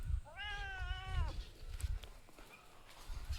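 Cat gives a single clear, drawn-out meow of about a second, fairly close, over low rumbling background noise and scattered thumps.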